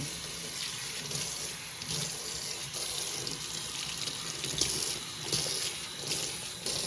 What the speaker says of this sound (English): So I just put a little bit of hot water, however much you want